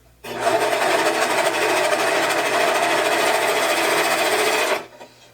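A serger overlock machine sews a seam on a dog bandana with its knife disengaged. A loud, steady mechanical whir runs for about four and a half seconds, then stops abruptly.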